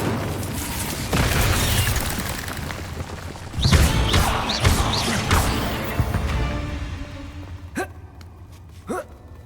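Incendio fire spell in Hogwarts Legacy bursting out amid combat: a rushing whoosh and heavy booming crash, followed by scattered sharp impacts and smaller hits that fade toward the end, with a brief gasp-like vocal sound in the mix.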